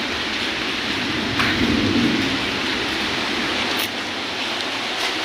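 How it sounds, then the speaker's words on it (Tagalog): Steady rain falls in a dense, loud hiss close by, with a low rumble swelling briefly in the middle. There is no talking. "Maulan dito ngayon."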